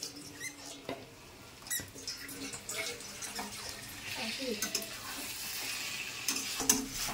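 Chicken legs sautéed dry in a pan with spices, giving a steady low sizzle with scraping stir strokes and clinks throughout, close by, with no one talking.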